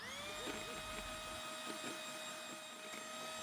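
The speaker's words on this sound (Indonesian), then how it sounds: "kalau pakai hand mixer kira-kira 10 sampai 12 menit lama mengocoknya" Hand mixer whipping egg yolks for a rum raisin layer cake, a steady high motor whine with harmonic tones held throughout, close and continuous with no talking.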